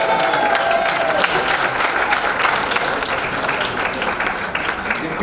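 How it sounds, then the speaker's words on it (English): An audience at an African heads-of-state summit youth side event gives sustained, steady applause, dense and close, for about five seconds with faint crowd noise underneath. "Shall we clap hands again for the future president of South Sudan?"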